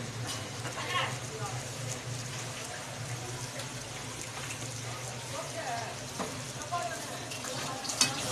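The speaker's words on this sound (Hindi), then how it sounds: "अब इसमें डालेंगे पानी।" Water goes into a pan of tinda (round gourd) and mutton that has been frying, producing a watery hiss and bubbling sizzle under steady background noise.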